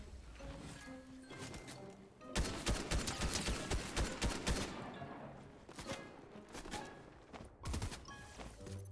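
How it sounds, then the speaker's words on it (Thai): Rapid bursts of Fortnite gunfire crackle continuously, with dense automatic volleys rising and falling in intensity. "คนยิงมาคนยิงมา"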